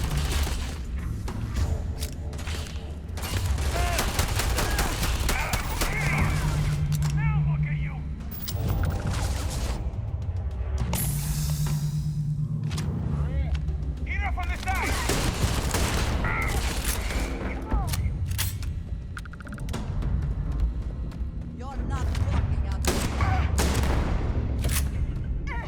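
Starfield video game gunfire crackles in dense, rapid bursts with booms and mechanical clatter across a long combat stretch, loud throughout, with occasional talk over the shooting.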